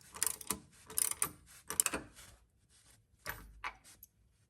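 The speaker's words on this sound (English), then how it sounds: "tighten the nut on the top side, tighten this down again, 16mm, 14mm nut" A ratchet tightening a 14mm nut on a bolt while a lateral brace is fitted to an Infiniti Q50, heard as quiet bursts of rapid clicking strokes that come in short groups separated by pauses.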